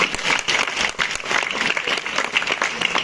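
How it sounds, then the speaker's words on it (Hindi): A crowd applauds steadily, dense clapping from many hands filling the room at a moderate level. "उनका जोरदार तालियां"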